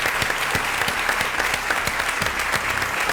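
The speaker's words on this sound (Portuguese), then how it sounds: "eu queria aplaudir a sua resposta" A studio audience claps on a TV talk show, dense steady applause from many hands, close and loud, with a faint voice beneath.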